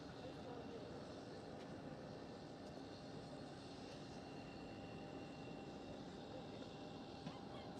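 TUI Dreamliner airliner taking off from Amsterdam Schiphol toward Gran Canaria, a faint, steady distant jet roar holding evenly for several seconds, with someone talking over it.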